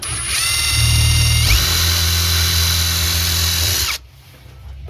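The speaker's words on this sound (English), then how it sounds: "I gotta get a different bit. And do the drill bit in reverse." A power drill running in reverse whines steadily at high speed, shifts pitch midway as it bores a hole, then cuts off abruptly, leaving quiet.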